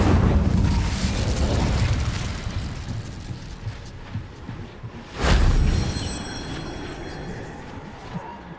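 An Incendio fire spell is cast in the Hogwarts Legacy video game, bursting with a sudden whooshing, explosive flare midway through. It stands over a steady rumble of ongoing game noise, and the blast slowly dies away afterward.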